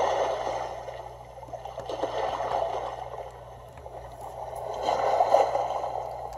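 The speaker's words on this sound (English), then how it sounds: "Nice beach sound." A portable sleep white noise machine runs its beach setting, with soft washing surf that swells and recedes in slow waves, rising again near the end. The sound plays alone at a gentle, moderate level.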